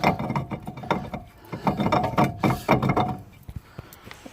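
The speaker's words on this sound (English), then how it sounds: "Get that little impact driver." Small impact driver working loose corroded front brake screws on a 2005 Freelander, a close run of rapid ratcheting hammer bursts in short pulses, tapering off to scattered clicks.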